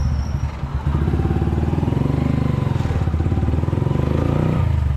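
A close motorcycle engine putters loudly with a fast, even rhythm, idling steadily after a short uneven start.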